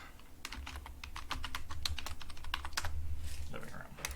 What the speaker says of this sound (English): And then I'm gonna type